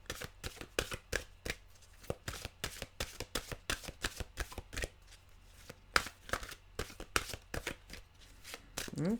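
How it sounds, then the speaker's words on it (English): Tarot mantra cards are riffled and shuffled by hand in quick, repeated bursts of crisp slaps and flutters, close and clear with no talking. "I'll cut the cards here."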